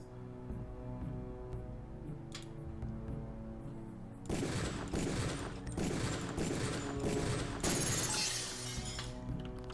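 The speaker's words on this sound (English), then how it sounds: "Release the first target and take a few shots with one of the pistols until it is destroyed." Pistol shots at a training target in Deus Ex, bursts of sharp cracks and shattering impacts that start abruptly partway through and come fairly loud and close.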